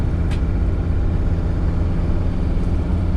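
Engine of a 2003 Mercedes Sprinter van under gentle acceleration on a test drive, a steady, loud low drone with road noise from inside the cabin.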